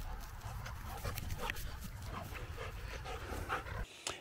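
Dogs play outdoors in a yard with biodegradable pins staked into the ground, panting rapidly and rustling about at close range, the breathy huffs continuous with scattered scuffles and a short pause near the end.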